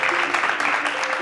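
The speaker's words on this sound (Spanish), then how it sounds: "Gracias por los aplausos." Audience applause at a talk, a dense spread of clapping heard close and fairly loud, with a voice speaking over it throughout.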